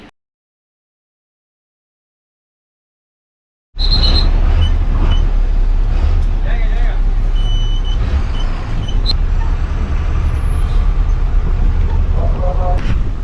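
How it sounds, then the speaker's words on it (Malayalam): Riding a State Transport Service government bus in Port Blair, Andaman Islands: after several seconds of silence, a loud, steady engine and road rumble sets in with rattles, clanks and occasional beeps, and people talk over the noise. "ഇവിടുത്തെ ഗവൺമെൻറ് ബസ്സിലാണ് നമ്മളിപ്പോൾ യാത്ര ചെയ്യുന്നത്"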